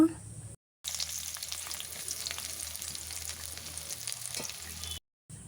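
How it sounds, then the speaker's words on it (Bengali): Onions frying in mustard oil in a wok, a close, steady crackling sizzle that runs continuously apart from two short silent gaps, with no voices over it. "কড়াই দিলাম কিছু সরষের তেল, দিয়ে পেঁয়াজ ভেজে নেব"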